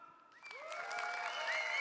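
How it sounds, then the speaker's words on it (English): Audience applause at a mobility startup competition final, building from a quieter start into steady clapping, with some tonal sounds mixed in. "So maybe you can give a round of applause like level 3."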